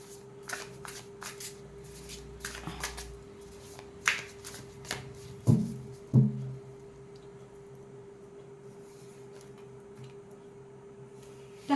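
Tarot cards being shuffled by hand, giving soft papery riffles and a few sharper flicks and taps, with a steady low hum in the background and no talking.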